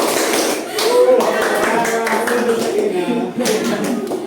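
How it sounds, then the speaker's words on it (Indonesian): Children clap their hands together in a classroom rhythm game, giving a few short claps under a teacher's spoken chant. The claps are brief and close, mixed into the talking. "Tepuk tangan."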